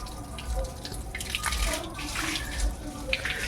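Water splashes and trickles as a Hari temple is washed in a village, in uneven close bursts and drips with some talk in the background.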